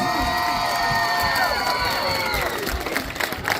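Crowd at a folklore evening applauding and cheering, a dense continuous roar of clapping and shouts with singing voices blended in, thinning slightly toward the end.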